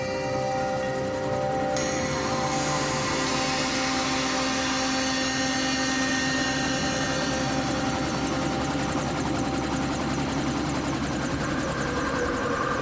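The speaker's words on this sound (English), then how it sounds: "The helicopter has to be able to leave at any minute" A helicopter engine runs near a volcano in Vanuatu, a loud, close, steady rotor-and-turbine drone that holds for the whole stretch with no voices.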